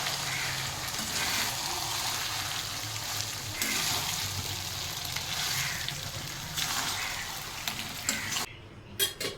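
Meat fries in a pan at home, and a steady close sizzle and crackle runs throughout with occasional stirring clinks before it briefly drops away near the end. No one speaks.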